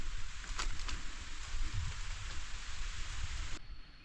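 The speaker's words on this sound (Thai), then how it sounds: "ฝนก็ตกลงมาแล้ว" Rain falls steadily in a forest, a dense close patter with a few sharper drop hits, fading slightly near the end, no voices.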